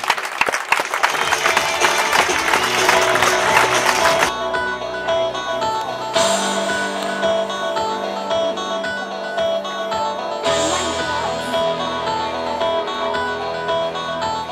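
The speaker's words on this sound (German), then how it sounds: "Komm zur Mitte, hol dir deine verdienten Applaus ab." An audience claps at a two-wheel acrobatics stunt show in Erlinsbach, a dense burst of applause lasting about four seconds before tonal music takes over.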